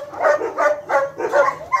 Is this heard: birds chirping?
no